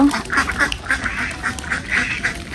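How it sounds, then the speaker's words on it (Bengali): Domestic ducks let out in the morning quack repeatedly in a busy, overlapping chorus, fairly loud and close, with no talk over them. "এই যে আম্মা সকাল সকাল হাঁস ছেড়ে দিল"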